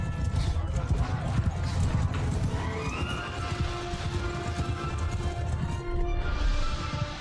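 Cavalry horses charging in a medieval strategy battle game, a steady rapid drumming of hooves with occasional whinnies and clashing over a dense, loud battle din throughout.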